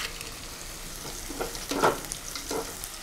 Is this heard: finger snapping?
no